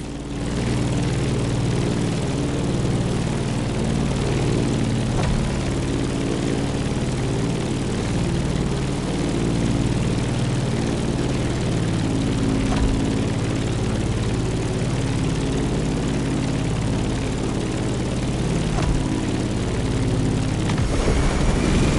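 A propeller aircraft engine drones steadily in flight in The Crew Motorfest, a loud, continuous low hum with harmonic layers that holds without a break.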